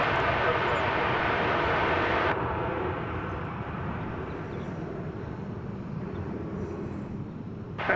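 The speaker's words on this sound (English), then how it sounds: "You're about to see in the foreground a American Airlines flight coming in from San" American Airlines jet arriving from San Antonio, landing at DFW Airport: a loud, broad engine roar that drops off partway through into a steady, softer rumble, with voices faintly underneath.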